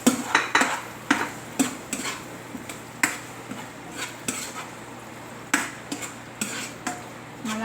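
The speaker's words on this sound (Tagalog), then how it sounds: "Ngayon po, igigisa na po natin ang garlic and onion." Garlic and onion sauté in a pan for a home-cooked kare-kare, metal utensils clinking and scraping the pan in a dozen sharp, irregular knocks over a faint sizzle, close by and without talk.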